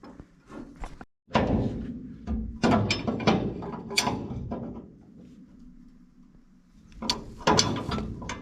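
Ratcheting wrench tightening bolts on the sprockets of a New Holland 851 round baler, with bursts of quick ratchet clicks and metallic clanks at close range, separated by brief pauses.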